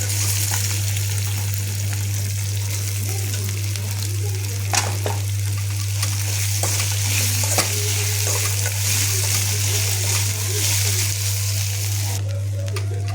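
Flattened rice (poha) with turmeric and salt is stirred in a hot pan, giving a continuous frying hiss with scraping strokes and small scuffs over a steady low hum from the stove or a fan. There is no talking.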